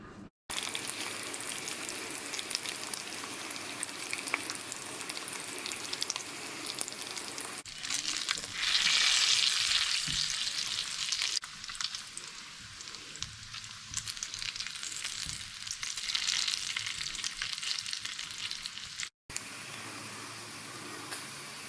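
Guanciale pieces frying in a pan of their own rendered fat give off a steady, fairly loud sizzle that crackles and hisses evenly throughout, with no voices.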